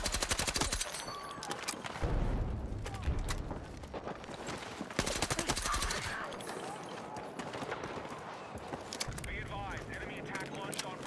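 Rapid bursts of automatic gunfire and single shots crackle through a Battlefield 6 Obliteration match, loud and close with dense battle noise between volleys, while a player talks over parts of it.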